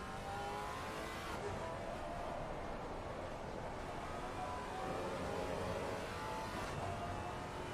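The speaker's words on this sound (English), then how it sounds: "It's some amazing noise from that car, almost NASCAR-esque as it comes through." A Maserati GT race car on the Oulton Park circuit roars loudly past with a deep, continuous engine note that swells and holds as it comes through.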